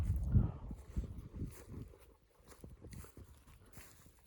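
Slow hoof steps of a mare clop on hard ground, fairly close, a few heavier thuds at first, then lighter irregular footfalls trailing off.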